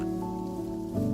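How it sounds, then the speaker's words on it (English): Steady rain pattering down in Minecraft, a constant wash of drops over a low droning tone that swells slightly near the end, with no voices. "It's raining outside, so the visibility is low."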